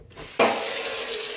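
Water from a kitchen tap gushes into a fry pan holding turkey drippings for gravy, starting abruptly after a quiet moment and then pouring steadily, loud and close, with no talking.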